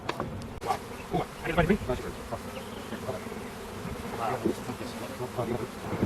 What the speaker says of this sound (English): Look at these bees getting in there.